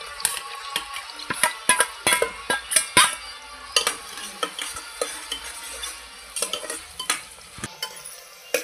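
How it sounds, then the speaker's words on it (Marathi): Onions being roasted and stirred in a pan for a dry mutton dish: a utensil scrapes and clinks against the pan in quick, uneven strokes over a quiet sizzle, close up, with no voices. "आता आपण कांदा भाजून घेऊया।"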